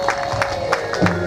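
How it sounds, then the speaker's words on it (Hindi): An audience claps along at a Ram Katha religious discourse, a brief burst of crowd clapping and cheering over a steady tonal musical drone. "बजाओ ना ताली"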